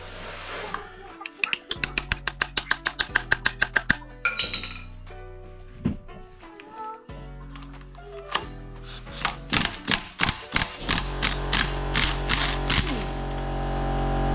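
A ratchet turns a hex (BTR) bit that slips on an old, worn bolt head, giving repeated rapid clicking bursts with sharp metallic clinks that speed up into dense runs near the end, close and fairly loud.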